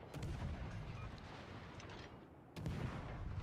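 Naval guns from a cruiser fire in World of Warships: Legends, producing low, muffled booming volleys at the start and again near the end, faint and distant-sounding, with no talk.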